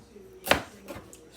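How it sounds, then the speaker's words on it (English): A single crisp knife chop cuts through onion on a cutting board in a home kitchen, close and distinct, followed by a fainter second tap. "we're going to cut the onions up in little,"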